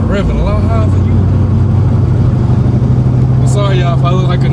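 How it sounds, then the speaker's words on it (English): A muscle car engine revs with a deep, rumbling drone that rises and falls in pitch, loud and close, while people talk over it. "I'm revving a lot higher than you."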